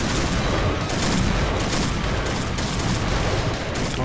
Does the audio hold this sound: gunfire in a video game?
yes